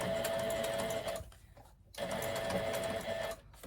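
A sewing machine stitches white thread through fabric on a handmade Christmas gift card holder, running in two steady, close, whirring bursts separated by a brief pause.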